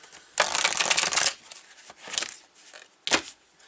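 Oracle cards are shuffled by hand in a few quick riffling bursts: one long, crisp flutter, then two shorter ones with pauses between, close and clear with no voice.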